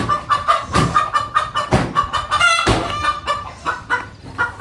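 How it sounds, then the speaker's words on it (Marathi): A hen clucks repeatedly and loudly at close range in a farmyard with chicks nearby, its calls coming in an uneven series of sharp bursts with no talk. "कोंबडी"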